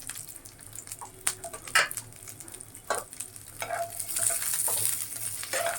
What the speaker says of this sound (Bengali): আর তার সাথে দিয়ে দিলাম পেঁয়াজ কাঁচামরিচ রসুন এগুলো আমি এখন একটু ভালোভাবে বেজে নেব